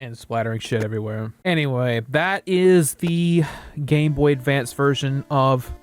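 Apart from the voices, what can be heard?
No everyday noise stands out behind the speech.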